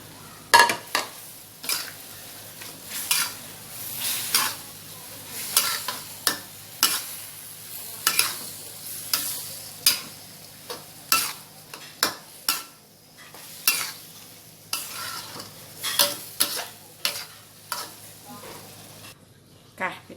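Chicken with holy basil and long beans being stir-fried in a pan, with a steady sizzle under repeated scraping strokes of a spatula in a fairly regular rhythm and a background voice at times.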